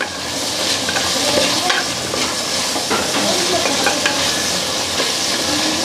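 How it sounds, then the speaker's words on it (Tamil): Onion, tomato and curry leaves sizzle and fry steadily in sesame oil with crushed garlic, mustard seeds and cumin, a continuous close hiss with occasional stirring scrapes and no talk. "அப்புறம் வெங்காயம், தக்காளி, கருவேப்பிலை, இதெல்லாம் சேர்ந்து நல்லா வதங்கி வரட்டும்"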